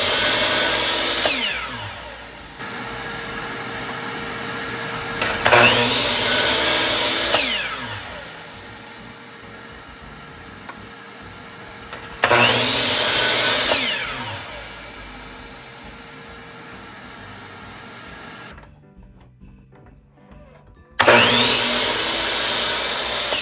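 A power saw cuts painted wood strips for a wooden quilt star wall hanging, making four loud, whining bursts of a few seconds each, with quieter shop hum and short pauses between the cuts.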